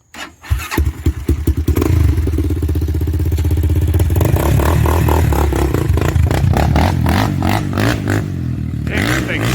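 A Honda 400EX ATV with a titanium-wrapped exhaust sputters to life with a few rough coughs, then settles into a loud, close, rapid idle that blips and revs unevenly.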